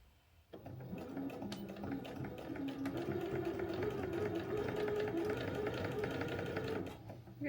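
A sewing machine runs steadily while top stitching the folded opening edge of a small tote bag sewn from 10-inch fabric squares, a continuous close motor whir of several seconds that starts abruptly and stops near the end.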